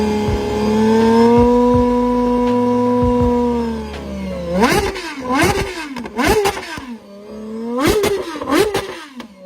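A GMA T50's naturally aspirated engine, able to rev to about 12,100 RPM, holds a smooth high idle-like tone, then fires off a series of sharp rising revs with quick drops between, loud and close.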